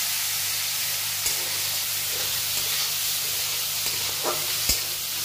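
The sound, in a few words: small prawns frying in oil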